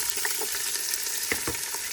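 Steady sizzling of chopped garlic frying in hot oil, with a few soft stirring scrapes and pops, close and continuous.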